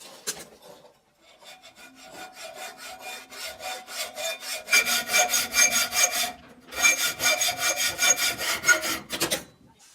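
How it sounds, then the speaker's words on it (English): In a workshop, a 10mm steel bar is cut and threaded, giving long runs of steady rhythmic rasping strokes, loud and close, with brief pauses between bursts. "In the workshop, I cut the bar down to 300mm lengths and then threaded one end."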